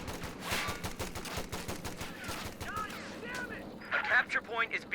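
Rapid bursts of gunfire from an infantry support gun and a .50 cal machine gun in a Company of Heroes 2 battle, dense repeated shots and explosions layered over one another, with voices throughout.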